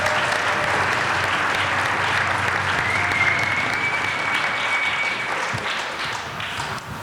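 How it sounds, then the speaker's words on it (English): A conference audience gives a sustained round of applause, a dense, loud wash of many hands clapping that holds steady throughout and only slightly tapers near the end. "give yourself a round of applause"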